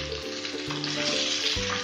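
Raw mango pieces fry in oil for a sweet-sour pickle, producing a dense, loud, continuous sizzle close up with a low hum underneath and no talking.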